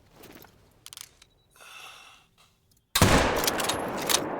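A rifle shot at a deer in theHunter: Call of the Wild: a few faint game clicks and rustles, then a single sudden loud crack that rings out in a sustained roaring echo through the open landscape.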